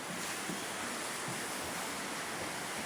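River water rushes and splashes continuously around a bather in hot weather, a loud, steady, close-up wash of broadband noise with no talk over it.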